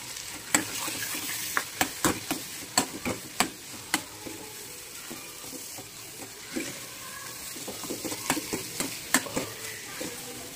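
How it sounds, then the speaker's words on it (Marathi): Homemade spice masala with turmeric and chili sautéed in a pan, a continuous sizzle broken by repeated sharp spatula taps and clacks in irregular bursts, close up with no speech. "त्याच्यानंतर घरचा मसाला तयार केलेला 2 चमचे, चांगलं परतून घेऊ"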